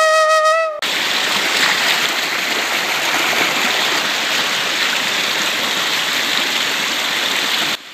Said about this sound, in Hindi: तो आप यहाँ पर देख सकते हैं दोस्तों कितना सारा पानी अभी भी पहाड़ों से बह रहा है।